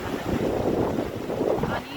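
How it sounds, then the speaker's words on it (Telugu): Water surges over a weir and rushes downstream in the rainy season, a loud continuous roar with gusty wind buffeting the microphone and a voice speaking faintly beneath. "నీళ్ళు అనేది డౌన్ స్ట్రీమ్కి వెళ్ళిపోతాయి"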